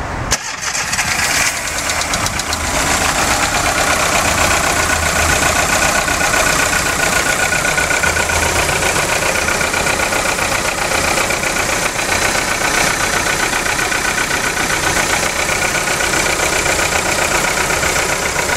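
A 2003 VW Golf 1.4 16v petrol engine with a failed ignition coil starts and then idles roughly. It runs close and loud with an uneven, knocking, stumbling rhythm throughout, and there is no talking.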